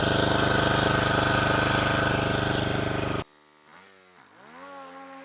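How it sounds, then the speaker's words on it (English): A Ybravo 25-inch commercial lawn mower runs loud and steady in low gear while mowing grass, then its drone cuts off abruptly partway through, leaving a quieter, wavering engine tone. "I'm going to go back to first or low, and I'm going to mow that way."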